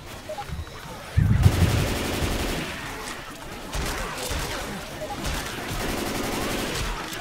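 Gunfire in the video game Left 4 Dead 2 survival mode: bursts of rapid automatic shots start with a loud thump and return in several rattling volleys, mixed with game noise, while players talk over it.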